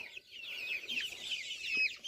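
A backyard flock of chickens, including meat birds and layers, clucks and chatters softly and continuously at close range while the birds stand around pecking and eating, with no talk.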